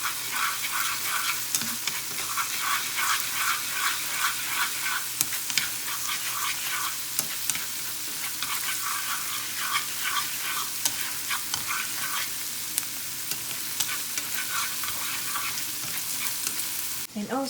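Ground pork fries with unsalted butter, garlic and onions, giving a continuous bright crackling sizzle with intermittent stirring scrapes and taps, steady and close, with no talking.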